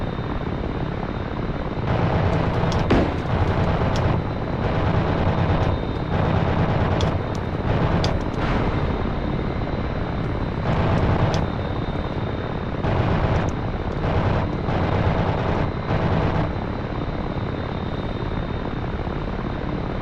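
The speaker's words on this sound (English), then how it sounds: "So the minigun sound is not very accurate, but at least you know that it's shooting." AH-6J Little Bird helicopter in the DCS World flight game, its rotor and engine droning continuously while a minigun fires in repeated short rattling bursts over the top.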